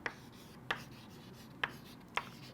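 Equations being written on a board produce four faint, sharp taps and short scratches spaced unevenly over a quiet room background, with no speech.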